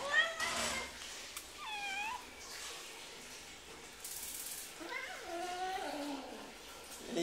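Domestic cat meowing and caterwauling, several drawn-out rising and falling cries in quick succession, fairly close but modest in level, over faint background noise and scuffling.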